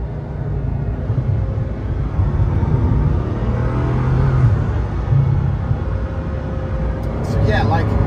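Bugatti Chiron Pur Sport, a four-wheel-drive hypercar, accelerating on a mountain road, heard from inside as a deep engine rumble that swells and drops through gear changes, with people talking over it.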